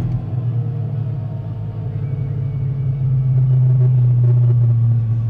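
A bubble-body Chevrolet Impala SS with a nitrous LSX 454 V8 runs under load on a dyno, a loud, steady low engine drone that swells in the second half, with uneven roughness from a misfire.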